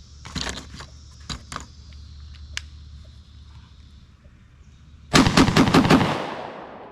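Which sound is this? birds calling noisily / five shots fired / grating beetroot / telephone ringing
five shots fired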